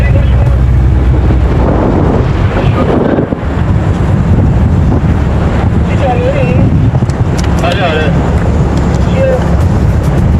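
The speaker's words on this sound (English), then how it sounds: "The wind is getting stronger." Strong desert wind buffets the microphone in a loud, continuous rumbling gust with surging bursts, while voices talk intermittently underneath.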